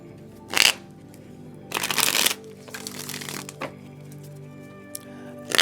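Tarot cards being shuffled, a few quick riffling bursts close up separated by quieter handling and soft taps.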